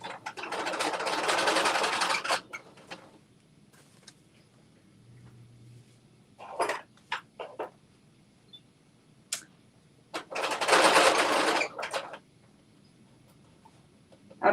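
A home sewing machine stitching a 5/8-inch seam comes through in two loud whirring bursts, with scattered clicks and short taps of handling between them and no talking.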